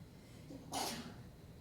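A single short, sharp sneeze bursts out in a quiet room during a spoken reflection, with faint low room noise before and after.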